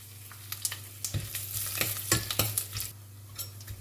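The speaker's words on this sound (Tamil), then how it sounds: "சோம்பு, பட்டை, லவங்கம், ஏலக்காய் ஸ்பைஸ் ஃபுல்லாகவே போட்டு வதக்கிடுவோம்" Whole fennel, cinnamon, cloves and cardamom fry in hot oil for Chettinad vada curry, giving a steady close sizzle broken by scattered crackles and spoon-stirring scrapes, with no voices.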